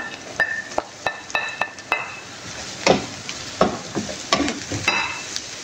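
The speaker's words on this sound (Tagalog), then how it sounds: "Gisa lang natin tong ricado niya guys." Onion and garlic sauté in an oily pan with a steady sizzle, broken by repeated clinks and scrapes of a utensil stirring against the metal, close and fairly loud.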